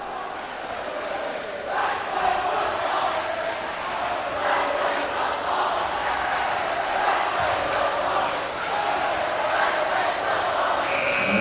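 Crowd at a boys' varsity high school basketball game chanting and cheering in a continuous loud roar, with rhythmic shouted chants and a commentator's voice over the top.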